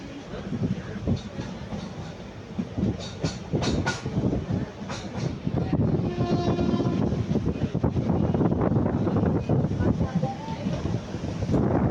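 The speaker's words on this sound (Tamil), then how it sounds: "காற்று பாருங்கள் சரியான காற்றடிக்குது" Strong wind buffets the microphone in a continuous roar, with a moving passenger train in Karur district, Tamil Nadu, India, rumbling and clattering underneath throughout.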